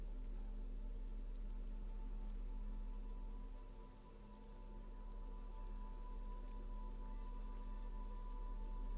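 Steady rain pours down in a video game, a constant close hiss of drops on surfaces with a faint low hum beneath, no voices.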